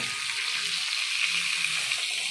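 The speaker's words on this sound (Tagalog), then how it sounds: "So, ilagay na natin ang ating mussels or tahong." Mussels tipped into a pan of light brown garlic, raising a steady, close sizzle of frying that holds evenly throughout with no talk.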